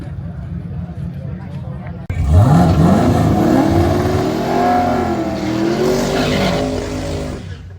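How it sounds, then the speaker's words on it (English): An engine roars as a wheel-standing Divco milk truck accelerates hard, its pitch climbing steadily and staying loud, over crowd noise and an announcer's voice. "here comes the wheel-standing Divco milk truck"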